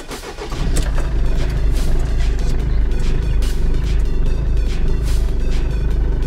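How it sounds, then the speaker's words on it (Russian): The diesel engine of a Mercedes-Benz Vito 638 with a suspected glow plug fault cranks and catches, then settles into a loud, close, steady throbbing idle. "Ну что, попробуем завести его."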